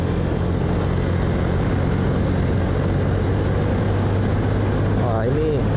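A Honda New Genio scooter accelerating from about 50 toward top speed, its engine droning steadily and loudly with heavy wind rush throughout, and a voice speaking briefly near the end.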